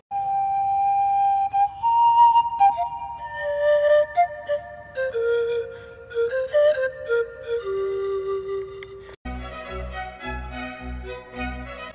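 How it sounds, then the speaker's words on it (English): Panpipes play a slow descending melody of breathy, sustained tones, each note sliding down in steps. A brief pause follows, and a short, brighter passage with a different timbre closes the phrase. "panpipes."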